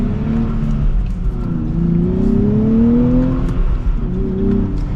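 A 2024 Nissan Z Performance sports car engine revs up and accelerates, its pitch climbing smoothly through several gears, loud and close.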